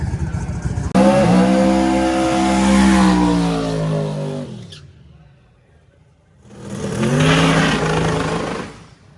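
Mike Finnegan's drag car Blasphemi launches down a drag strip, its engine roaring loud and rising in pitch for several seconds, then cutting off before a second hard burst of revving.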